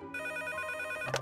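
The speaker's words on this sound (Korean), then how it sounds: "어느 날 엄마는 언니에게서 한 통의 전화를 받았습니다." A telephone rings in one short, steady electronic trill, clear and fairly close, with no voices.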